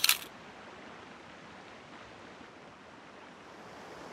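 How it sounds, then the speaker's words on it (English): A single quick camera shutter click fires at the very start beside rushing river rapids, followed by the steady broadband roar of the water continuing alone. "with my first shot, I'm going to use a really fast shutter speed to try and freeze the motion of the water"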